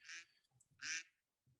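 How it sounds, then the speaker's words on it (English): Two short duck quacks sound as a phone ringtone, fairly faint, with a brief low murmur between and after them. "Was that a duck sound?"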